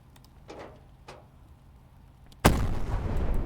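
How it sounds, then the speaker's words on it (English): Heavy gunfire erupts suddenly in a military video game with UK forces, firing on a building; a loud sustained barrage starts after a couple of faint earlier pops and continues to the end. "Let's go ahead and open fire on this building."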